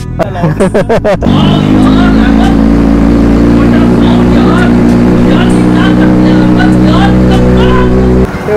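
Kawasaki Ninja ZX6R fitted with an SC Project exhaust, idling loud and steady after a few sharp throttle blips at the start, close by and dominant, with people talking over it.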